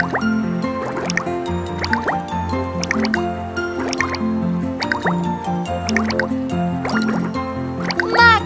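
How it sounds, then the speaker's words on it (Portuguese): A cartoon bubble machine from the TuTiTu children's series, with repeated bubbly drips and plops and rising squiggly tones in a regular rhythm over bouncy background music. "Máquina de bolhas!"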